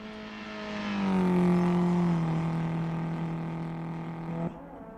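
A drifting car passes by with its engine note swelling, holding a steady drone, then gradually falling in pitch before cutting off abruptly near the end.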